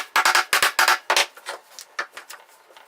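Hammer tapping square-shouldered carriage bolts into MDF, a quick series of sharp close knocks that grow lighter and fainter toward the end.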